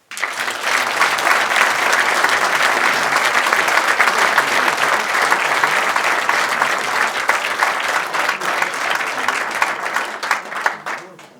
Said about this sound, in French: je vous demande d'ores et déjà de les applaudir